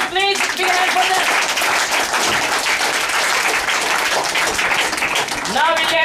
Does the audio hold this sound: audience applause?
yes